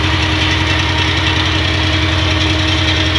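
A rough-running car engine idles and shakes, producing a steady, loud, uneven low throb with a knocking pulse, heard up close on its own.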